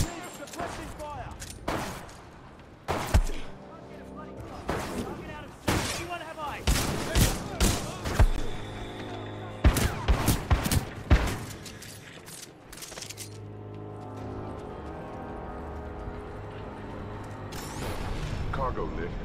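Suppressing gunfire in the Titanfall 2 video game: bursts of sharp shots and thuds come in irregular clusters over a steady mechanical hum, with voices talking between them.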